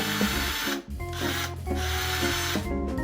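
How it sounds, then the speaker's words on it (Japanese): Holes are drilled into cedar kindling wood with a small drill, a close, busy whirring and grinding that pauses briefly twice between bursts, with no talking. "まずはこちらの杉の焚き付け材に穴を開けていきます"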